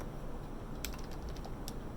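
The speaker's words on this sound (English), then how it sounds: "I don't know why my typing is off." Typing on a computer keyboard at a home desk: a few sparse, crisp key clicks over a steady background hum, no talking.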